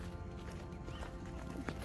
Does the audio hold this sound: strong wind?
no